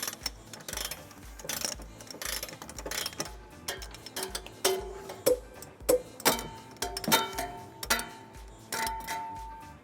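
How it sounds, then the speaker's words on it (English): A socket wrench with a 19mm socket ratchets while tightening trailer hitch bolts on a 2015 GMC Terrain, giving rapid rhythmic clicks in bursts, close and fairly sharp. "we're ready to tighten and torque all of them to the manufacturer's specification"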